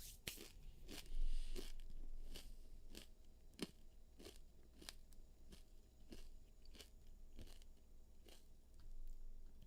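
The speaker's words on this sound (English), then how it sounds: "I don't want to be crunching in your ear." Crunching while eating, heard close up as a steady series of sharp, crisp bites and chews at irregular intervals over low background noise, with no talking.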